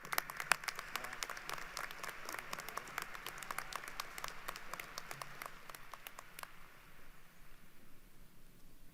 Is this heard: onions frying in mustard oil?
no